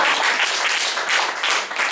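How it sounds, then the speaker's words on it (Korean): An audience at a Korean networking lecture breaks into brief, dense applause, a short burst of many hands clapping fairly close and loud. "박수."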